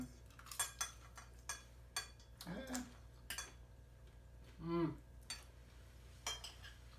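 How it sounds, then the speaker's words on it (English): Knife and fork cut through crispy pan-fried crab ravioli on a plate, a few sharp scraping crunches and clinks of cutlery, close and moderately quiet against a low steady background hum, with brief speech. "You can hear as we cut through that, well, hopefully you can hear on camera that crispiness."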